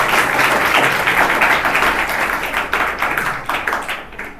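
Vigorous applause from an audience honoring guests and management at a gathering, dense clapping that stays loud for several seconds and then thins into scattered claps toward the end.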